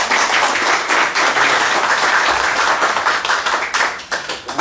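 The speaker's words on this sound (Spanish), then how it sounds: "Pero por favor un voto de aplauso, por favor." An audience claps together at a talk on tourism development around Machu Picchu, dense sustained applause from a roomful of people, loud and continuous, thinning slightly toward the end.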